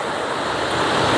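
Continuous roaring rush of falling water from a waterfall at an abandoned nature site in Banyuwangi, steady and broadband, swelling slightly louder toward the end with no voices.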